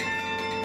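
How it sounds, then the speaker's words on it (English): The largest bell in a campanile clock tower rings with a single ringing, sustained tone rich in overtones, heard close and fairly loud. "largest bell inside the campanile chimes every hour"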